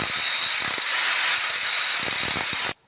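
Handheld grinder sanding a homemade metal plough before painting, a loud, steady, close abrasive whine and hiss that runs unbroken before cutting off sharply at the end.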